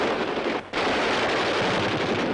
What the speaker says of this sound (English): On the firing range, they try out the latest machine guns